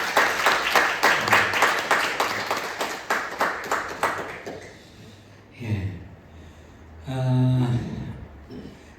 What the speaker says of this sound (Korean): 여러분 우리 일어나셔서 우리 다 같이 박수로 우리 권사님